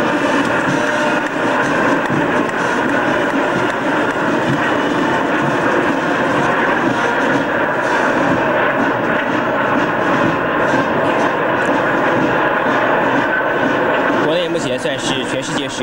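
Formation of Taiwan-assembled Northrop F-5 fighter jets passing over a National Day military parade, a sustained loud jet roar that holds steady and grows more broadband toward the end, heard under continuous announcer commentary.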